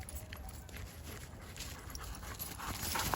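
A Doberman runs close by, panting quickly and rhythmically, with soft footfalls mixed in. The sound is fairly faint outdoors, and there is no talking over it.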